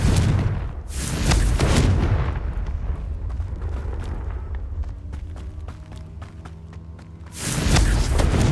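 Two heavy Confringo spell blasts from Hogwarts Legacy: one booming explosion opens the clip and another lands near the end, with a lingering crackling rumble and faint ringing tones between them.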